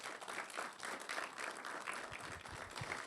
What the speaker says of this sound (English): Shall we give him a round of applause again?